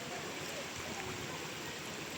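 A river rushes steadily where a 4x4 vehicle fords it in Bagong Silang, Real, Quezon. The broad, continuous wash of flowing water stays even and fairly close the whole time, with no talking.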